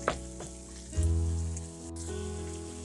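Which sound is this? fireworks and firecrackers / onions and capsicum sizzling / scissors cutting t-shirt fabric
onions and capsicum sizzling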